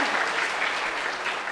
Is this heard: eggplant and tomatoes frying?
no